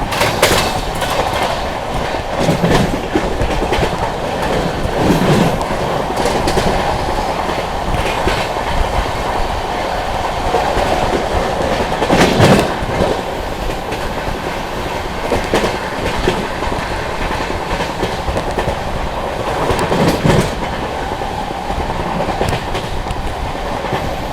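The Poorvottar Sampark Kranti express rolls through Etawah junction, heard from aboard with continuous rumbling wheels, rhythmic clickety-clack over rail joints and occasional louder clanks as it crosses points, steady and close throughout.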